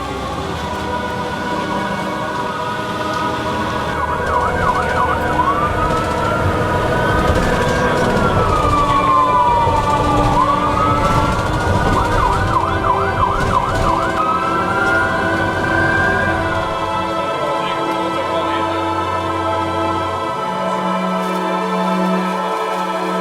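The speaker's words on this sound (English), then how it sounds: "The ambulance is here." An ambulance siren wails loud and close at the scene of a trapeze accident, its pitch sweeping up and down in rising and falling cycles over a steady rumble of traffic and engines.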